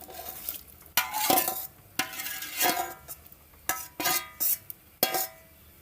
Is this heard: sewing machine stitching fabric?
no